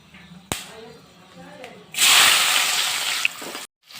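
Onions go into hot oil with bay leaf and whole garam masala in a Bengali chicken curry. A voice speaks first, then a loud, close sizzle bursts up and holds for about a second and a half before cutting out.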